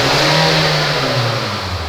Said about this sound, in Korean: RPM 한번 올려볼게요